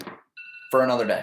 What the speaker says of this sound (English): If you guys couldn't hear that, that was my alarm going off.